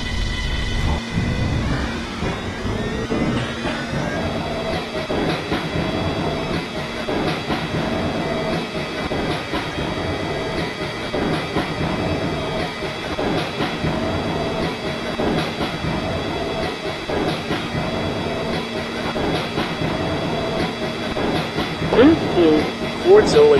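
An R143 Siemens subway train on the L Line in the Roblox video game runs with a continuous rumbling motor hum and rail clatter, while spoken announcements play over it throughout.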